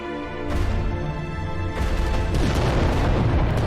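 Titan weapons fire in the video game Adeptus Titanicus: Dominus as deep, heavy booms and crashing blasts that roll over one another, loud and continuous, with a fresh impact around the midpoint.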